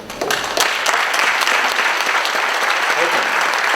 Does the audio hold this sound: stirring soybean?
no